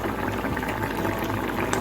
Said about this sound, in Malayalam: മസാലയിൽ നന്നായി തിളച്ചിട്ടുണ്ട്